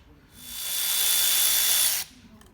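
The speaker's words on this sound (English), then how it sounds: "I was just undoing the bolts on the sump on the automatic 25 gearbox." A power tool undoing the sump bolts on a Renault 25 automatic gearbox, a single whirring burst lasting about two seconds that rises quickly, holds steady and cuts off abruptly, close and clear.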